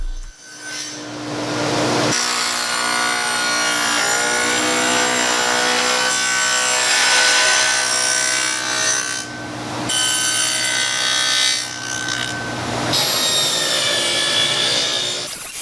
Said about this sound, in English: I used a 1/4 inch dado blade to create the slots that will accept the panels